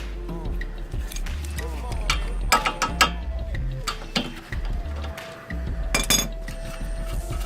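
A ratchet wrench works on a strut bolt of a 2004 Honda CR-V, giving sharp clicks and metallic clinks in uneven bursts up close, with someone talking between them.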